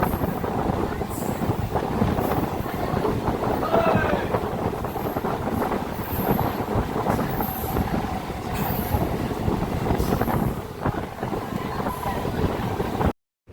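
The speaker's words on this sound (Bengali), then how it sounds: "আর এই হচ্ছে বাউরিয়া স্টেশন প্রবেশ করে গেছে আমাদের হাওড়া পাঁশকুড়া লোকাল" The Howrah–Panskura local train rolls into Bauria station, heard from on board as a steady moderate rumble with scattered clanks and squeaks, mixed with wind noise.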